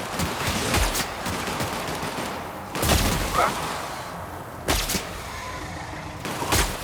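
Gunfire in The Outer Worlds on hard difficulty, several loud bursts of shots at irregular intervals over a constant rumbling battle background.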